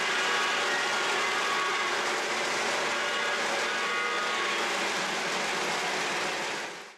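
A Lionel model train pulling MTH plated passenger cars runs steadily on the layout, a continuous close rumbling roll with faint clicking that holds throughout and then fades abruptly at the end.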